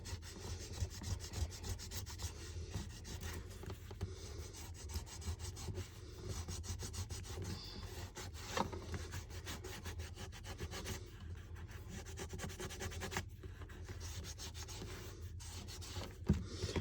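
An altered playing card being sanded by hand, a faint, steady scratchy rubbing that carries on without a break, close to the listener, with no voices.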